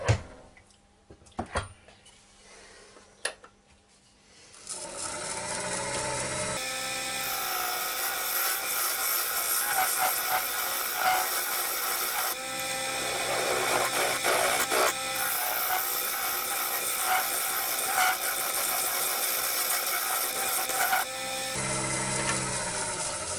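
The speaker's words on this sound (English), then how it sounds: "I'm just going to get a scraper or a skew chisel and make a nice square" A skew chisel or scraper cutting an ash bowl on a wood lathe gives a loud, steady hiss and rasp of tool on spinning wood, broken by brief pauses, after a few quiet knocks and clicks at the start.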